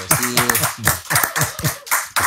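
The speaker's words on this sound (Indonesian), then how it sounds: "Tepuk tangan untuk Ariel" Audience claps in a studio setting, a series of sharp, close hand claps in a loose rhythm, with a faint tonal sound underneath at the start.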